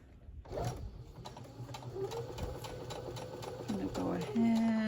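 Sewing machine stitching fabric for a Santa mug rug, a rapid rhythmic mechanical whir that starts, runs steadily and speeds up near the end, close and moderately quiet.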